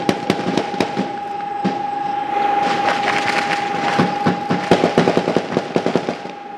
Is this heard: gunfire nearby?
yes